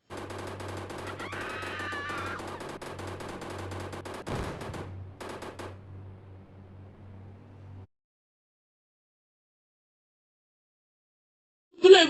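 Video game car-theft mission with a rapid burst of gunfire and blasts, loud and dense, then a heavy explosion-like crash before the din cuts to silence, ending with one sharp hit.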